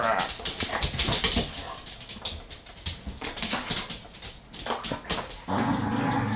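Two dogs whimpering, yipping and grumbling at each other while squabbling over a frisbee outdoors, close and fairly loud in bursts, with wind or motion noise and a brief human voice.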